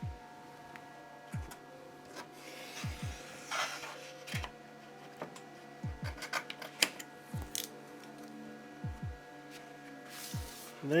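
Paper fed from an Epson S40600 printer, which has no built-in cutter, is cut by hand in short, intermittent scraping snips over a steady low machine hum.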